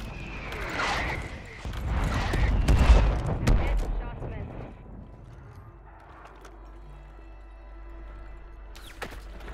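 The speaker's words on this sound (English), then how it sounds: "I'm getting shot right, Bales!" Video game gunfire in a multiplayer shooter match, a burst of rapid loud shots and booms early on that fades into quieter rumbling and scattered sounds, with players talking over it.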